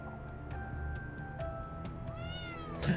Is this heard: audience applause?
no